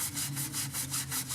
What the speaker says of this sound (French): brosser légèrement le pneu.